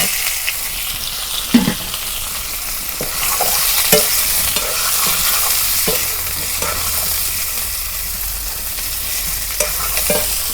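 Boiled, peeled potatoes go into a frying pan of hot oil for a homestyle egg curry, giving a steady loud sizzle with a handful of sharp spatula scrapes and knocks spread through it and no talking.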